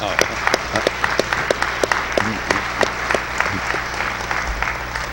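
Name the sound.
audience applause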